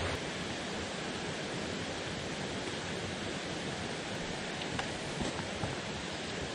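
A swollen mountain stream after days of rain, rushing in a steady, full broadband roar that stays loud and unbroken throughout, with no voices over it.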